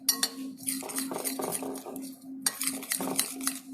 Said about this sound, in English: So I'll give it a nice mix to it.